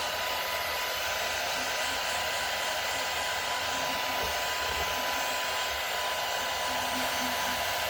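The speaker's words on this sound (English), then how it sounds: "I'm going to put this down so I can blow dry it" A hair dryer blows loudly and steadily, a constant whooshing hum with no breaks, close by and alone.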